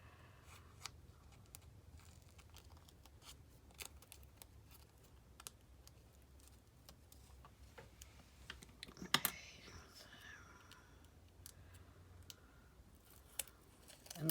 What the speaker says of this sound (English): move the object you're cutting out rather than moving your scissors